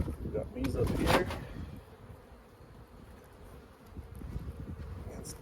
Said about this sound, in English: We got bees up here.